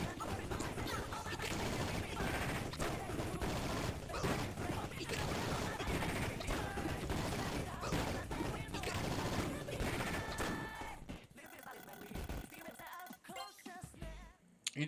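Gunfire at enemies in Persona 1, rapid volleys of shots layered over battle music for most of the stretch, then tapering into sparser effects near the end, with someone talking over it.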